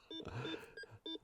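A few short electronic beeps in quick succession, close and fairly faint, with brief gaps between the tones.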